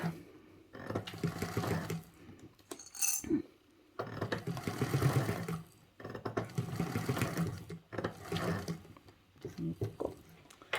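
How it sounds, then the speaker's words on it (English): A sewing machine stitches clear vinyl in several bursts of rapid, rattling needle strokes separated by short pauses, close and moderately loud. "my sewing machine isn't the bestest friend when it comes to clear vinyl"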